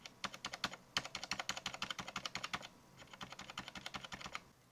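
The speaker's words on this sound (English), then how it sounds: "And here is the silent clack from the MX Board Silent." Rapid typing on an MX Board Silent keyboard with Cherry MX Silent Black linear switches, soft, muted keystrokes in quick bursts, a brief pause midway, then more typing at a slightly quieter level.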